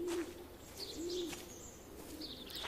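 Birds at garden feeders in Everybody's Gone to the Rapture coo softly and chirp in the background, a gentle dove-like call repeating twice over faint ambient hiss.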